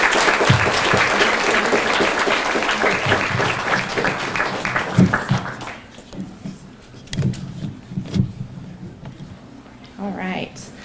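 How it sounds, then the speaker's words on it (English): Audience applause at a school awards ceremony, dense and steady for about five seconds before thinning into scattered clapping and room noise. "Can we give them one more round of applause, please?"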